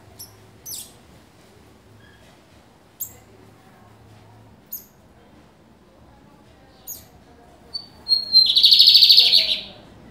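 A lined seedeater (bigodeiro) chirps in short, sharp, spaced calls, then breaks into a loud, rapid trilling song near the end, close and clear in a quiet setting.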